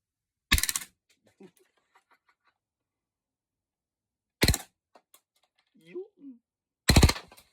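A VORSK VMP-1 gas blowback airsoft gun fires three separate sharp bursts, the first two short and the last slightly longer, each a close, loud cracking rattle, with silence between them and someone talking softly in a gap.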